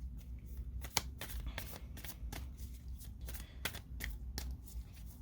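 Continuous soft tarot card shuffling with repeated light flicks and slaps of cards, steady and close, over a low background hum.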